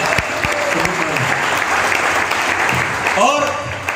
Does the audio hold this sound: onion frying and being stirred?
no